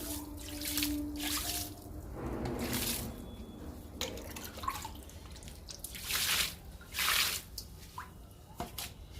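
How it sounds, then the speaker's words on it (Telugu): Homemade liquid made from onion peels and papaya seeds is poured onto indoor potted plants, giving soft irregular splashes and drips with brief louder gushes, close by and with no talking. "ఇప్పుడు ఈ లిక్విడ్ని మొక్కలకి ఇచ్చేద్దాము"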